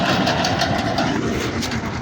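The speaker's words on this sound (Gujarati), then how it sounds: "તો સામેથી આવે છે પંજાબી ટ્રેક્ટર," A Punjabi tractor passes along a road with a steady, loud engine rumble and clatter close by, and no one speaks.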